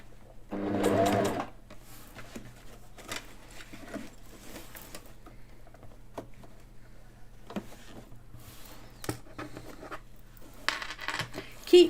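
A sewing machine stitches a straight seam, its motor whirring loudly in a burst near the start, then quieter intermittent stitching and clicks follow, with no talking.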